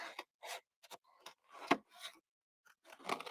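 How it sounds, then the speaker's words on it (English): Scissors snip around paper leaves on a craft card, making short crisp cutting bursts separated by silent pauses, close and fairly quiet with no talking. "I'm going to cut around these leaves."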